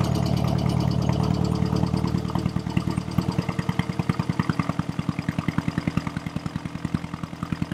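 A 1959 Triumph car engine cranks briefly, then catches and settles into a steady, rhythmic idle with even, close pulsing exhaust beats that continue to the end.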